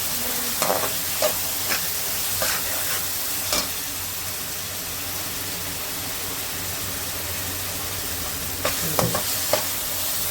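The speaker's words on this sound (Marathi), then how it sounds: "आलं लसूण कोथिंबीर याची पेस्ट घालून चांगलं परतून घ्यायचं" Ginger, garlic and coriander paste frying in hot oil for a vegetable paneer pulao gives a steady, close sizzle, with scraping stirs near the start and again near the end.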